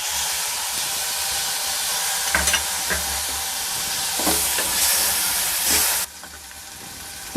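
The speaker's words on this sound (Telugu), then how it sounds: "నెక్స్ట్ టమాటా ముక్కలు వేసేద్దాం." Tomato pieces hit a hot frying pan with a loud, hissing sizzle, stirred with intermittent scraping strokes, before the sizzle drops abruptly near the end.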